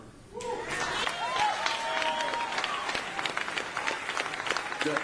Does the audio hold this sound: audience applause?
yes